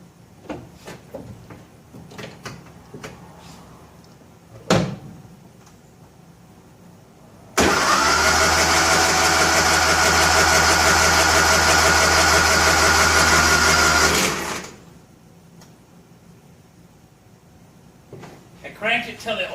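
An old 1957 Nash Metropolitan engine, long unused, cranks and catches, then idles loudly and steadily for several seconds before cutting off; faint rustling and movement around it in a shop.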